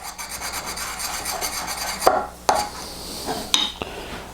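A slipstone honing a woodworking gouge gives steady scraping rubs, then several sharp clicks and knocks as the stone and tool are shifted, close and fairly loud.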